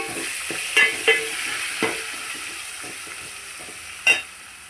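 Onion frying in a pan with a steady sizzle throughout, broken by several sharp scraping stirs of a utensil against the pan, close and clear with no talking.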